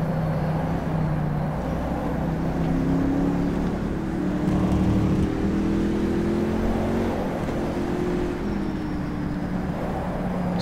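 Panoz Roadster engine in rFactor 2 at Putnam Park, droning steadily at close range with rising and falling pitch as the car accelerates and shifts through corners, continuous throughout with no talk.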